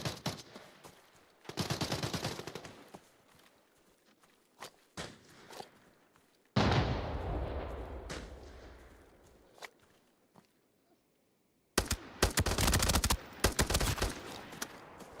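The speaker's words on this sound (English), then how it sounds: "The ML rifle." Bursts of rapid rifle fire from an ML rifle in a video game, loud clustered volleys separated by quieter stretches with footstep-like taps and a brief silence.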